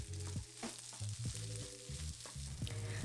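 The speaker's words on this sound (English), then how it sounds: "So stir fry until most of the rice is covered in the sauce" Rice stir-fried with XO sauce in a pan, with a soft continuous sizzle under frequent tossing and scraping strokes that come in quick, uneven bursts.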